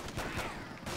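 A pack-a-punched Intervention sniper rifle fires in a custom Call of Duty zombies map, Kino the Rebirth, a loud, dense burst of gunfire filling the whole second with an odd, processed character.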